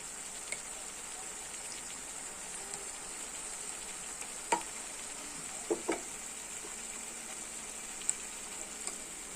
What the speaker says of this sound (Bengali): পেঁয়াজটা আমার বেরেস্তার মতো হয়ে গেছে। তো এখন আমি সব মশলা দিব। এখন আমি দিয়ে দিচ্ছি আদা রসুন।